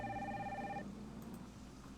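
A telephone rings in the Nancy Drew: Danger by Design video game, a short electronic ring with clear tones that stops partway through, over a low background hum.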